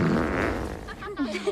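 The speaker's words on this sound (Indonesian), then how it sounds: "dia hanya bisa mengeluarkan api dari pantatnya atau kentut maksudnya" A cartoon fart bursts out as a brief flatulent blast, followed by a short rising squeaky tail, close and fairly loud, with a voice speaking over it.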